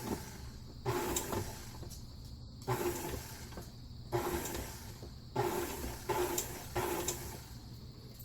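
A stand mixer fitted with a new scraping paddle churns batter for applesauce bread, a rhythmic whooshing and scraping that swells and fades in repeated pulses about every second and a half, fairly close and alone.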